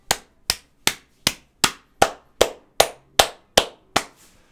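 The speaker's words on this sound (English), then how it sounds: "So I'm just going to make my booty clap real quick." Eleven sharp, evenly spaced claps, loud and close with quick decays, forming a steady rhythmic series with nothing else underneath, played during a FIFA 22 Career Mode session.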